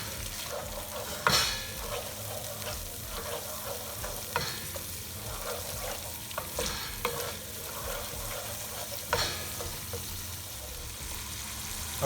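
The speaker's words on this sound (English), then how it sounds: "Let the gravy cook a little bit." Chicken jalfrezi gravy simmers and sizzles in an oiled pan, a steady close frying hiss broken by several sharp scraping stirs of a utensil, with no talking.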